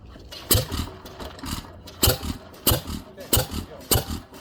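A Witte 5hp stationary engine is pulled over by its flywheel from cold, giving heavy, slow, irregular thumping bursts about every half second, close and loud, with a voice in the background.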